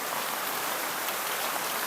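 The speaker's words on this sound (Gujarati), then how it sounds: "અમારે ત્યાં બહુ જ વરસાદ છે" Heavy rain pours down continuously, a dense, even hiss of drops beating on surfaces with no break and no voices.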